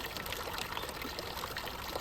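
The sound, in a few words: holy water pouring from a spring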